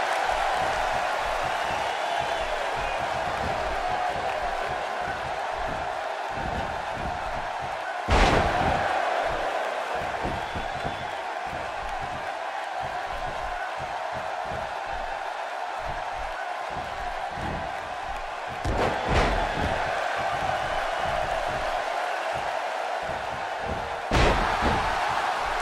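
A steady crowd roar fills a WWE 2K wrestling match between Fandango and Rusev, broken by a few heavy slams and thuds landing in the ring.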